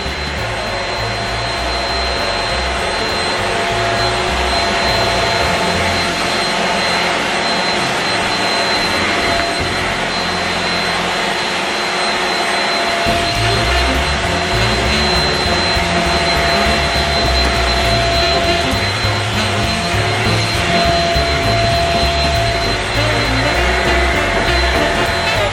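A Shark Rocket Ultra Light stick vacuum cleaner runs with a steady, loud, close whine and hiss, working a brush attachment, with a slight shift in its low rumble partway through.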